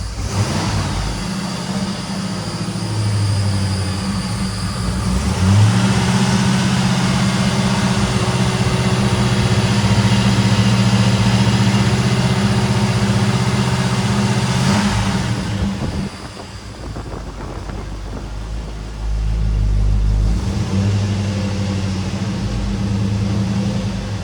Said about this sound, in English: now we're going to do a cold start. This vehicle's been sitting for 2 years.